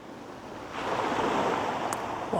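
Ocean surf rolls in and crashes on the shore, rising from quiet into a broad, sustained wash of breaking water with a little wind noise.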